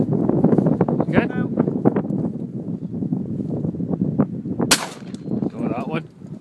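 A shotgun fires at an outdoor range, one sharp loud blast cutting through steady wind noise while people talk and call out around the shot.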